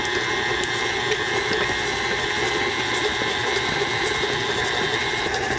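Electric mixer whirring steadily as it beats room-temperature butter with granulated sugar, a continuous motor drone with a bright high whine, close and alone without any talk.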